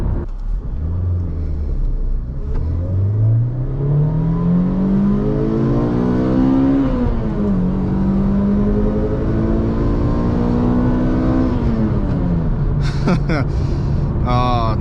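A Toyota Corolla XRS climbs through the gears on a spirited mountain drive. The engine note rises and falls through shifts, with a steady road rumble from inside the cabin and talking over it.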